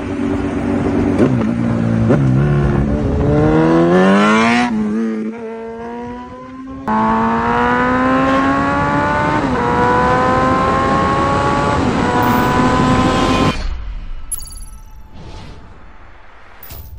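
A 2015 second-generation Suzuki Hayabusa motorcycle revs hard in first gear, its engine note climbing in steady rising sweeps, dropping briefly, then winding up again loud and close before cutting off near the end.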